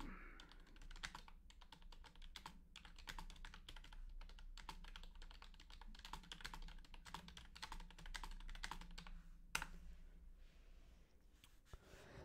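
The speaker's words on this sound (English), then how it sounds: "I just typed it up" Rapid clatter of keys on a computer keyboard, fairly close and steady for most of the stretch, with faint background noise and no clear talk over it.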